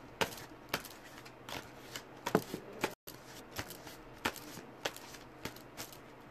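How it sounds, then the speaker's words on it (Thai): Tarot cards being shuffled by hand in a fortune-telling session, a run of crisp riffling snaps and flutters in uneven bursts, close and fairly quiet with no talking. "จะเริ่มสับไพ่แล้วนะ"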